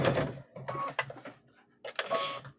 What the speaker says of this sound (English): I'm just sewing right on the edge here.